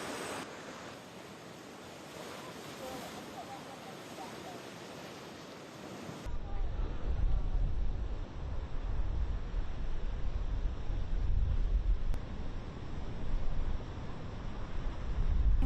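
Rough Atlantic surf and high winds from storm Lee roar steadily, a broad continuous wash that grows louder partway through, with gusting wind buffeting the microphone.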